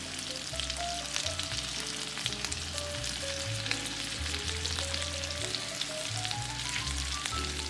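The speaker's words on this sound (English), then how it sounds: "As soon as that butter is melted, we're gonna go ahead and add in our mahi-mahi." Mahi-mahi fillets fry in melted butter in a pan on high heat, giving a continuous close, crackling sizzle that stays steady throughout, with no voices over it.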